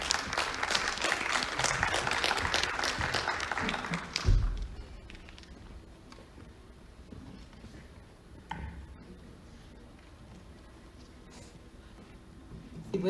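A conference audience applauds a speaker, a dense wash of clapping for about four seconds that stops abruptly, followed by faint room noise and a few scattered taps.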